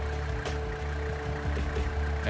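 A diesel engine converted to run on vegetable oil, fitted with a high-performance filter and heat exchanger, idles close by with a steady, loud rumbling drone and a few faint clanks, no voices.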